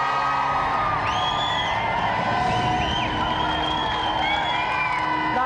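A TV studio audience at a video-game show cheers, whoops and yells loudly for two sports guests, a dense, continuous crowd roar with shrill whistles and shouts rising over it throughout.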